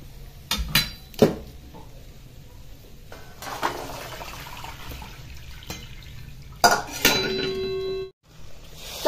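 Drained green peas tipped into hot tempering in a pan for a Marathi-style peas curry, giving clattering pours and bursts of sizzle with scraping of a utensil against the pan, close and moderately loud.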